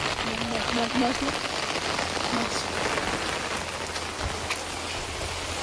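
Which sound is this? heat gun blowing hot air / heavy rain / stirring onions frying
heavy rain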